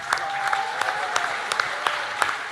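Audience at a Matariki gathering claps for panelists, a sustained wash of applause with distinct individual claps standing out, brief and moderately loud.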